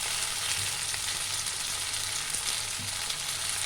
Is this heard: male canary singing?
no